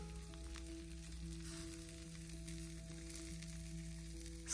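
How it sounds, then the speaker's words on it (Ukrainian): Steady sizzling of food frying in a pan, a continuous crackling hiss with a low hum underneath, fairly close and even throughout. "Смажиться наша вечеря"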